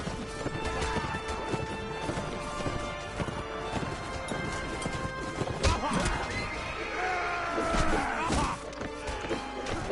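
Horses neigh and whinny amid galloping clip-clop hooves during a medieval battle in the video game Mount and Blade, with clashing impacts and crowd noise throughout and a louder burst near the end.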